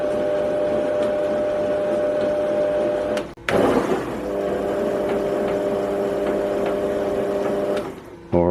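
A metal lathe turns forward with a left-hand single point threading adaptor engaged, giving a steady, close mechanical drone with a tonal whine that dips briefly near the middle and again at the end.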